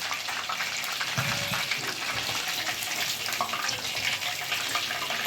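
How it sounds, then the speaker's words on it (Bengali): Chicken pieces deep-frying in oil for chilli chicken, a steady loud crackling hiss that runs unbroken throughout with no voices. "এইভাবে আমি আমার সব চিকেনগুলো ভেজে নেব"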